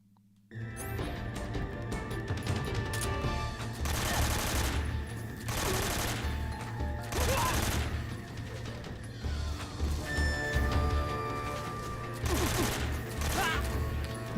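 AK rifle fire in the Metal Gear Solid game Snake Eater, heard as loud sustained bursts of automatic gunfire in several long volleys, with brief pauses and clattering impacts between them.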